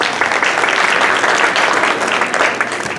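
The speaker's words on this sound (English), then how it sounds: "Round of applause for us." Loud, close applause from a crowd at a community planning workshop in a middle school in Salinas, a thick continuous clatter of hands that holds steady throughout.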